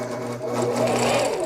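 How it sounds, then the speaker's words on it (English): A QP V5 Power Panto quilting sewing machine stitches in a steady, fast, close mechanical whir with a constant hum, loud and continuous with no voices. "needle down, needle up. And hit sew."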